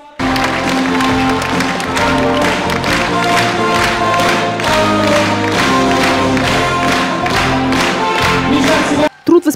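A hall full of people gives stormy applause to preschool teachers at an award ceremony, dense loud clapping that settles into a rhythmic unison beat, with some cheering, before it cuts off at the end.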